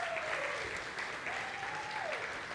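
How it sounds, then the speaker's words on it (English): An audience at a networking evening applauds in a steady wash of clapping, while a faint gliding tone drifts through behind it. "Let's give yourselves one more round of applause"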